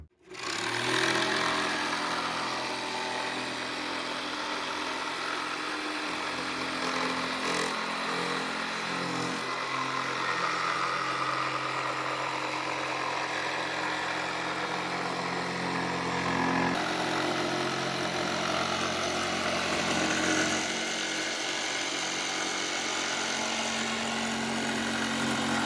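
A power tool cuts a window opening into an aluminum camper shell for a Tacoma pickup, a continuous loud motor whine with harsh metallic cutting noise that holds steady for the whole stretch, no talking.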